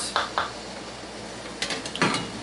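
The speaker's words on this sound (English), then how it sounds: "Put our lids on." Metal canning jar lids clink and rattle in a kitchen while grapes are canned in light syrup, with two quick clinks early and a few more clattering taps near the end, close and fairly loud.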